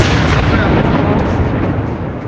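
Continuous loud rumbling grenade blasts and bursts, dense and unbroken, like repeated explosions in a noisy crowd scene.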